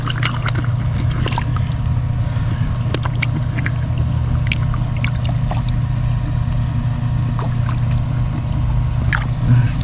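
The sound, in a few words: water flowing into a dug drainage hole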